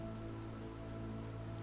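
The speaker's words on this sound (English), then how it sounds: "it is raining even worse than before" Rain ambience plays as a background effect during a tabletop role-playing game, a soft, even, continuous patter of steady rainfall with no talk over it.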